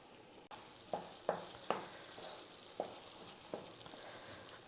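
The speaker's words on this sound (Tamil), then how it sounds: "இப்போ நெய் சேர்த்துடலாம்." Ghee sizzles in a kadai with rava kesari, a steady soft frying hiss broken by several sharp stirring clacks of a spoon against the pan.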